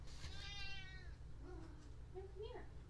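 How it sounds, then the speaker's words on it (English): A pet cat meows a few times in the background over a faint steady hum, with one long drawn-out call followed by shorter, softer meows. "you might hear my cat meowing in the background"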